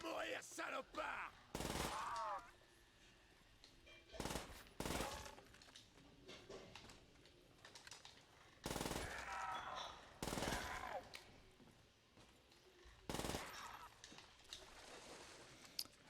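Bursts of PPSh submachine gun fire in Call of Duty: World at War's zombie mode, several short loud volleys spaced across the stretch, with quieter game ambience between them.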